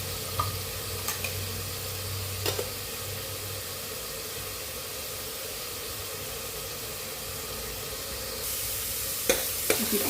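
Chopped onions sizzle and fry in a pan for minced meatball gravy, with a steady hiss throughout and a few sharp scrapes of a spoon stirring them, close and fairly loud with no talk.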